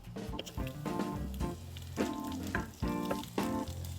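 Chopped onion goes into a pan of sautéing garlic and sizzles steadily up close, with popping crackles and brief surges as the pan is stirred.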